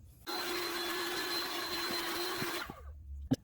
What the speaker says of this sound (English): I'm gonna do that by softening this up using a heat gun